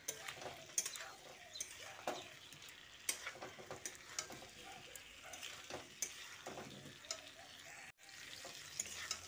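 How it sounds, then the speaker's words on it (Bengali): Fried potato and pointed gourd being stirred into a spice masala in a pan, giving a steady oily sizzle under repeated scraping, clinking stirs of a spoon against the pan, close and fairly quiet with no talk. "আলু ও পটলটা দিয়ে মশলার সঙ্গে ভালো করে মিশিয়ে দিচ্ছি।"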